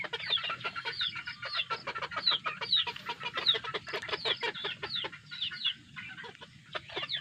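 Straight comb chickens clucking steadily and close by, with a dense run of short repeated calls layered over one another and no talk.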